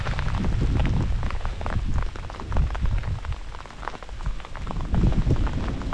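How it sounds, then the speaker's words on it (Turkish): A dense, loud clatter of heavy hail hammers continuously on a surface, with a low rumbling undertone and no voices. "Dehşet bir dolu yağıyor arkadaşlar şu an."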